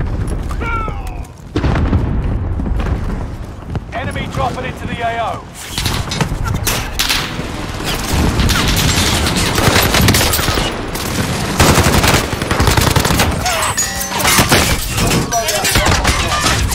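Rapid bursts of gunfire and booming explosions from a Call of Duty multiplayer match, dense and loud throughout, with a voice mixed in.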